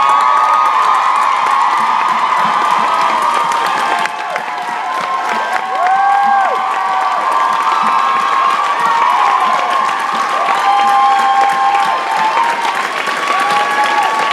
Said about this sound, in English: So can y'all guys stand up and give her the proper round of applause?